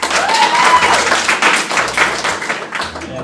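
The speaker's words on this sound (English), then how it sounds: "now show of applause if you were here to see me" A comedy show audience at a school variety show claps in a loose burst on cue, with scattered hand claps and a few thumps, some voices mixed in under the applause.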